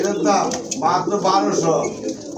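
Pigeons held for sale, local and foreign breeds, coo in a close, repeated series of soft, rolling calls that follow one another with little pause.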